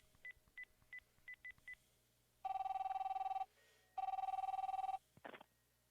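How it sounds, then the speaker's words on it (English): Fax machine dialing in The Darkside Detective: a quick run of six short touch-tone beeps, then two long loud bursts of a harsh, buzzy handshake tone with a gap between them, ending on a short rough chirp. "We're still dialing."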